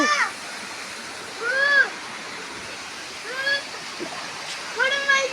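A steady, full rush of falling water from the Thenaruvi waterfall fills the background, with a few short voiced calls rising over it at intervals.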